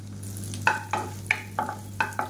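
Chopped garlic and ginger sauté in a pan on moderate heat, a steady sizzle under a series of stirring scrapes with a utensil, about six distinct strokes close by, no talking.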